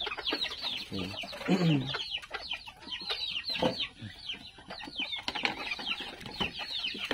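Chickens on a farm at feeding time, a flock clucking and squawking continuously at moderate distance, with a few sharper calls and brief wing flutters scattered through the busy chatter.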